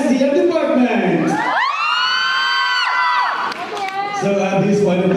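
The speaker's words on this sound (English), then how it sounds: "Can you please hear a cheer coming from the BSTM department?" A loud school event crowd cheering and shouting for candidates, with children's high whoops and sustained screams rising and falling, close and continuous.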